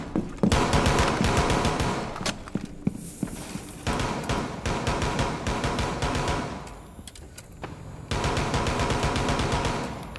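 Sustained automatic gunfire from the defender Frost in a Rainbow Six Siege match, loud and close, in long rapid bursts with short gaps and sharp single shots mixed in.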